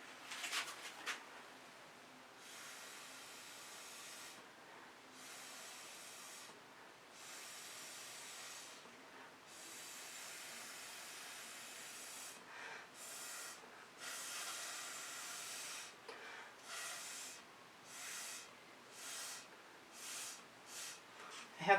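Repeated breathy bursts of air blown through a straw onto fluid acrylic paint, soft hissing puffs of varying length separated by short pauses, quickening toward the end.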